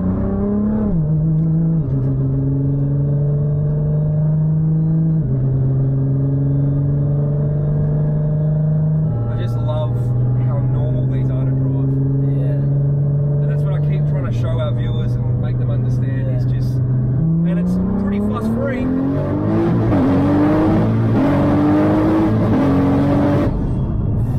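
Engine of a powerful street car at an Australian street car event, revving and pulling hard at full power, its steady loud drone climbing in pitch through gear changes, with people talking over it.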